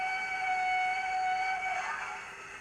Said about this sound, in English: Function 23 is a fourth whistle.